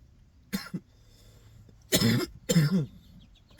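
Three separate coughs, close and harsh, the first short and the last two heavier and chesty, with quiet pauses between them.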